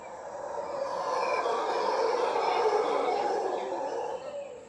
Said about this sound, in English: That is the sound of a howler monkey.